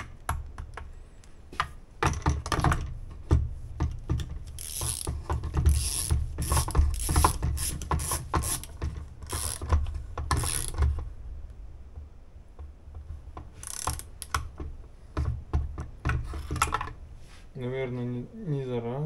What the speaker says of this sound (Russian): Вот, теперь затягиваю с усилием 20 ньютон-метров.